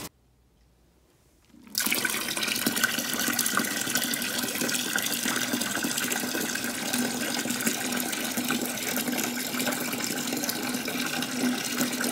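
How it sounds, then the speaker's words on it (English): Room-temperature water runs steadily into a bucket holding a coiled water line for winter rabbit hutches, starting abruptly after a quiet moment and continuing as an even, close, rushing fill with no talk. "I filled it up about 3-4 inches with room temperature water"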